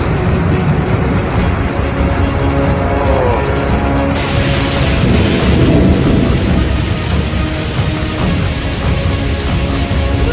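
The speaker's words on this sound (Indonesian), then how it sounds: "Jakarta hujan es." A hailstorm with heavy rain pours down in Jakarta, a dense, loud and unbroken rush of falling hail and water that fills the whole scene without a pause.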